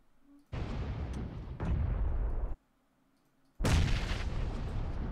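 A grenade explodes amid gunfire in a shooter game, heard as three loud, abrupt bursts of booming noise, each cutting off sharply, with near-silent gaps between them.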